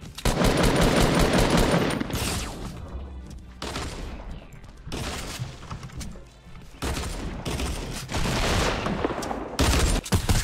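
Rapid automatic gunfire from the video game Fortnite rattles in loud, dense bursts, broken by short pauses and scattered single shots, with bursts near and sustained for several seconds at a time.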